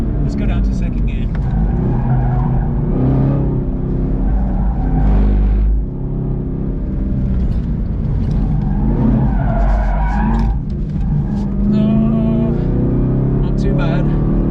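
Chevrolet Camaro ZL1 1LE on a race track downshifting to second gear for a fast corner, a loud engine roar with tire squeal and revving under someone talking.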